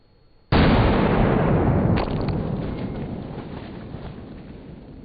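A single close gunshot from nickel-plated ammunition blasts a watermelon apart, one sudden loud crack followed by a long, slowly fading roar of echo and ringing.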